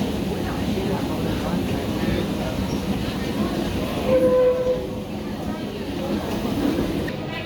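A train rumbles steadily into a Hong Kong station, with a brief high squeal of brakes midway and voices murmuring under the noise.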